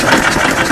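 A John Deere 1 1/2 hp Type E hit-and-miss engine, painted pink and slowed almost to a stop, gives a brief, loud, close burst of rough engine noise.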